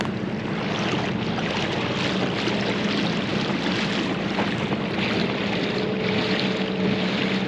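A small dinghy motors across open water on a crossing to Spetses, Greece, its steady engine drone mixed with splashing water and wind buffeting the microphone throughout.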